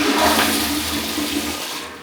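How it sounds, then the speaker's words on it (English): A toilet flushes in a Disney All-Star Movies Resort hotel bathroom, a strong rushing gush of water that stays loud for about two seconds with no talk over it. "It's got a pretty damn good flush."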